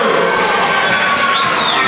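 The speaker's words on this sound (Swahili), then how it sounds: "Makofi kwa Doto." A crowd at a secondary school form six graduation cheers and claps for a student, a dense, loud wash of shouting and applause with a whistle-like voice rising near the end.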